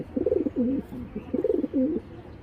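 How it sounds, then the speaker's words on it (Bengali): Club racer pigeons cooing close by, two rounds of throaty, bubbling coos in a steady rhythm with a short gap between, clear and alone. "অ্যাক্টিভ দুইটা কবুতরই খুবই অ্যাক্টিভ"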